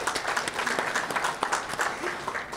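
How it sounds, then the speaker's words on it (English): Applause from the crowd at a press conference on homelessness, a brisk, fairly dense patter of clapping with uneven peaks, heard at a moderate distance throughout the short stretch. "So let's give another round of applause for that."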